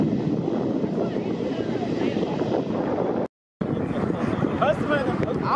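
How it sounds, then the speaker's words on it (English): The world's biggest passenger plane flies over LAX, a loud, continuous jet roar with gusts of wind buffeting the microphone while spectators talk beneath it. "Biggest plane in the world."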